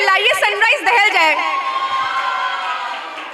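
An audience at a school annual day event shouts loudly together, and a single voice is heard briefly at the start before the crowd's sustained roar takes over and slowly fades.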